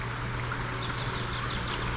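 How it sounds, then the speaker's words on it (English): Fresh water rushes steadily from a waterfall in a Hawaiian rainforest, a dense continuous roar with bird chirps faintly above it and no talk. "You see the waterfall in the distance."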